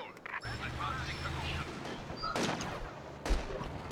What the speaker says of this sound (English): Incoming fire! Enemy fire! Enemy fire!